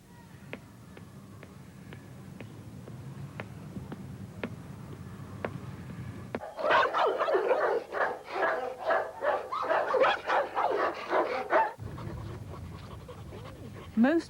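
Domestic dogs bark and pant in a rapid burst of yaps and yips that sits well forward, following a quieter stretch of scattered clicks and low rumble, then trailing off into a soft background.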